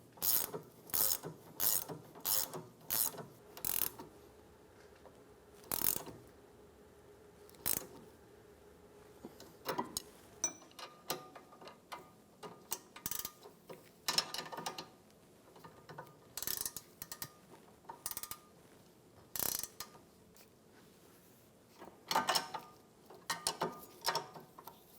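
A hand ratchet tightens the nut on a rear sway bar link of a 2013–2017 Honda Accord while a hex key holds the stud, giving bursts of fast metallic clicking separated by pauses, close and clear, with no talk.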